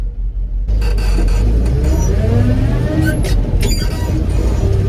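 1979 Ford L-600 truck on the road, a low rumbling engine with the transmission whining and rising through gears, some clattering cab noise and brief talk underneath.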